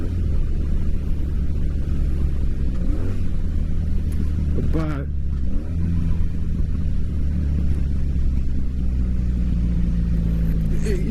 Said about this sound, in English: that sound is that of an old bike.